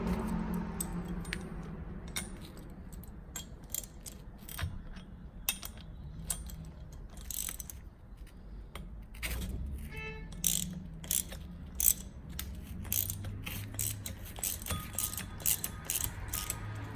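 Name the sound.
ratchet removing turbo compressor from Volvo 850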